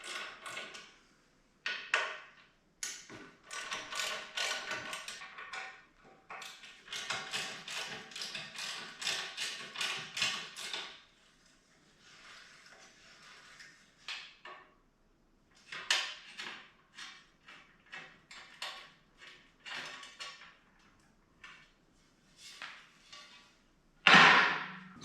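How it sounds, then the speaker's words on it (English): Taking the skid plate assembly off a BMW R1200GSA motorcycle produces intermittent metallic clanks, taps and rattling handling noises, close by, in irregular clusters separated by short quiet gaps, ending with one sharp loud knock. "this whole skid plate assembly is going to have to come off to get access to the oil filter and the drain plug"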